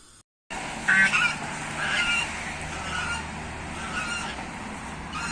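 Geese honking near a coop, with several loud nasal honks rising over a steady background hum and one short break of silence near the start.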